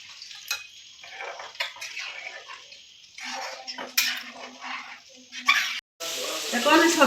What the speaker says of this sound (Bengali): জল দিচ্ছি সবজিতে।